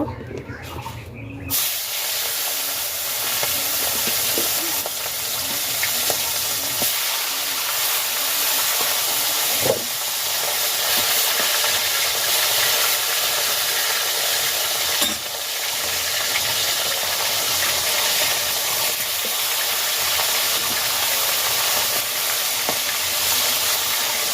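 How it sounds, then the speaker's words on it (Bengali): Fish frying in a pan, a loud steady hissing sizzle that starts abruptly after a brief moment and carries on evenly at close range, with occasional faint knocks. "এবার হচ্ছে মাছগুলোকে সুন্দর করে ভেজে নেব"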